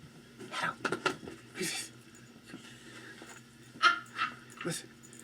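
A puppy gives short whimpers and a few yips in bursts near the microphone, with a person talking close by in between.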